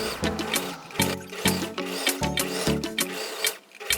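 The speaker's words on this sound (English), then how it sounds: "Sew around twice to create a holder for the string to go through." Sewing machine stitching the lining of a bag upcycled from thrifted clothes, running in short repeated bursts with brief pauses between them, close and fairly loud, with no talking.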